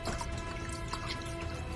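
Dripping and trickling water as a piece of fish is dipped in, with a dense, close wet patter that runs steadily throughout.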